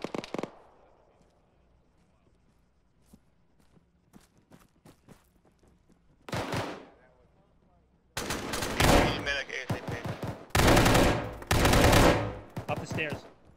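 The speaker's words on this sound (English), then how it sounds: "tracer fire due west down the road" Gunfire and tracer fire in an Arma ShackTac battle: a sharp opening shot, scattered faint distant reports, then a loud isolated burst and heavy repeated volleys of close automatic fire, with some speech.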